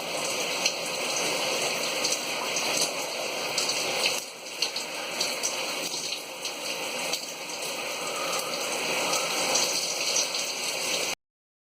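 Shower water streams steadily over curly hair during a rinse, a dense continuous spray with small shifts in splashing and no speech.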